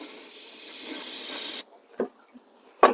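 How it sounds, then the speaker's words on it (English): Aerosol cleaner sprays in a steady loud hiss onto a dripping oil pan for over a second, then stops, followed by a couple of faint clicks and a short spurt. "considering it's been dripping for a while, let's spray this thing down"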